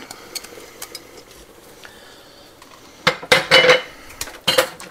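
Fresh chopped red onions tipped into a cooking pot, a quiet clink at first, then a dense burst of clattering and scraping against the pot before it eases off, with no talk.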